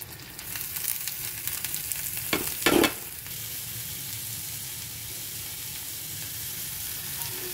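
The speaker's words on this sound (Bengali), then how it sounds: "পেঁয়াজ, বাঁধাকপি, বিনস, গাজর আর ক্যাপসিকাম সবটাই কড়াইতে দিয়ে দেবো।" Chopped onion, cabbage, beans, carrot and capsicum stir-frying in a wok, a constant hiss of sizzling with a sharp burst of louder crackle and scraping as the vegetables are tossed, then settling to steady frying.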